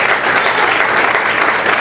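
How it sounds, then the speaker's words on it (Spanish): A church congregation applauding during a morning service, loud dense clapping that fills the space evenly from start to finish. "A ese Dios te pido un aplauso en esta mañana."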